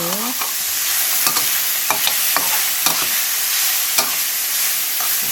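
Stir-frying shallots, garlic and chili in a wok: a steady loud sizzle with repeated scraping clinks of a spatula, close up, no talking.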